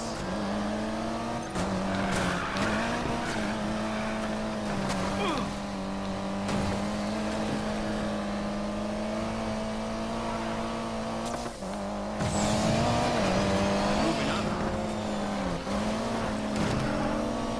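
A Mitsubishi Evo race car in Need for Speed Payback holds a steady, droning engine note while racing, with brief shifts in pitch as it accelerates and a louder surge near the end.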